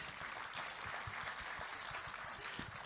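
Faint, distant clapping from a literary festival audience welcoming a panel member, a soft steady patter of many hands heard at low level for a few seconds.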